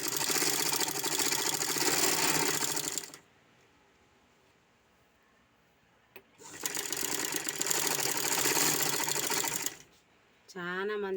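A domestic sewing machine stitching cross belts runs in two steady, fast-whirring bursts of about three seconds each, with quiet pauses between them and a brief voice near the end.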